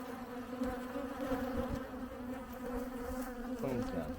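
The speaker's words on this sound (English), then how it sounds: "it feels like there's almost too many bees in this hive" A swarm of honey bees buzzing around an open hive, a close, dense, continuous drone that wavers slightly, with faint handling bumps underneath.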